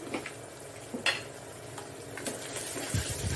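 Cumin and mustard seeds are stirred in a pan with onion pieces and curry leaves for mushroom curry, giving faint scattered clinks and scrapes of a spoon over a soft, low sizzle.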